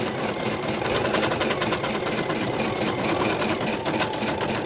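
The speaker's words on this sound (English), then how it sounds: "start the machine, and it's going to work around these paws on the outside and then the inside" An embroidery machine stitches around paw shapes on an in-the-hoop Christmas stocking, a steady, fast mechanical whirring and rattling at close range that runs continuously at even loudness without talk.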